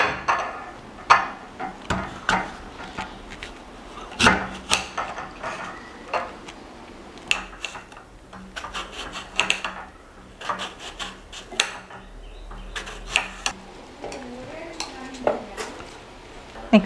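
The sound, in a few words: cutting green apple for fruit jelly cake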